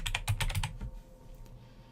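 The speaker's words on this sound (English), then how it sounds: "I'm going to type Maria" Close, quick keystrokes tap out on a computer keyboard in a rapid burst of about half a dozen clicks, then a few fainter taps trail off into quiet room tone.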